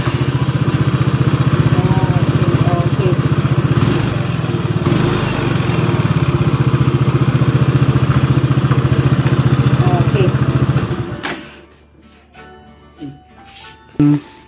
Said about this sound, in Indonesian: Yamaha Novo SX 125 yan guys.